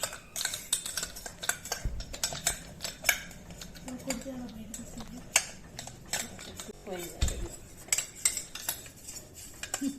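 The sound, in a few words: stirring mango pickle mixture with spoon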